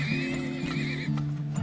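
Horses in the video game Turmoil neigh in a short, loud whinny, a couple of rising and falling calls back to back with no talk.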